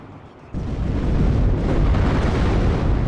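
Artillery barrage in the WARNO wargame: after a quiet start, a loud, deep explosive rumble erupts and sustains as heavy, rolling booming.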